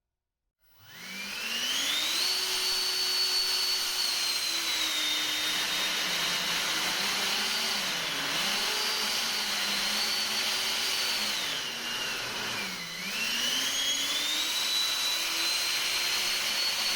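Variable-nozzle electric ducted fan with a 2500kv motor on a 3S battery spins up to a loud, steady whine, its pitch dipping and rising several times as the nozzle is adjusted, running continuously for the whole stretch.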